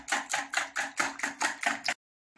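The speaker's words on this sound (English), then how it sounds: "You still continue whisking it. Whisk it properly." A whisk beats egg, milk and sugar in a bowl for donut batter, giving about seven quick, even rhythmic strokes up close before stopping into silence.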